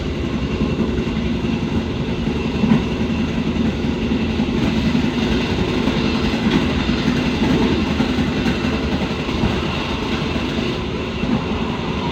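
Continuous rumble and rattle inside an old 56-year-old executive carriage on the KA Brantas train running at speed, a loud, steady roar with faint rhythmic clatter and no voices.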